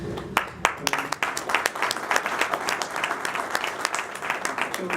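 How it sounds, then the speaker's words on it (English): Audience applause at an evening event with a councilman: dense, steady clapping from a room full of people, loud and close, continuing for the full stretch without words. "really deserve a round of applause"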